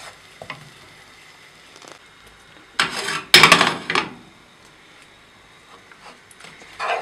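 A spatula stirs and rubs a mixture in a pan, pressing out lumps while cooking borscht; scraping and light sizzling come in a loud burst near the middle, with quieter clinks around it and no talk.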